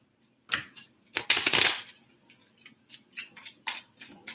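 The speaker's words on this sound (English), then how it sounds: "Let me shuffle these again." Tarot cards being shuffled by hand, a string of crisp riffling and slapping bursts, one long flurry followed by shorter irregular snaps, close and clear with no talking.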